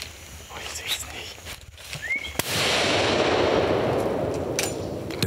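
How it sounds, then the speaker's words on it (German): A double rifle fired during a duiker hunt in Cameroon: a single sharp, loud report about halfway through, followed by a long rolling echo that fades slowly over quiet bush ambience. "Der Schuss fällt schnell, zu schnell für den Kameramann."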